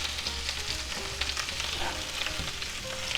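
Half a head of cabbage frying in a pan, a soft, steady sizzle with faint crackles and light scraping, fairly quiet and even throughout.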